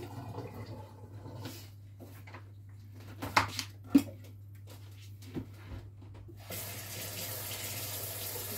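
Water running from a kitchen tap while peas are washed, a steady faint stream under a low hum, with a few handling clunks midway and the flow growing louder toward the end.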